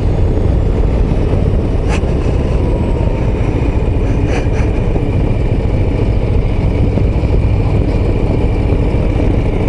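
Harley-Davidson Low Rider ST motorcycle riding along small autumn country roads, its engine a loud, steady, close rumble that holds throughout with no speech.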